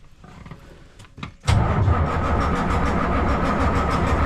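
A Transtar truck's diesel engine cranks in cold weather with a few brief starter turns, then roars steadily and loudly up close, a heavy, rough idle.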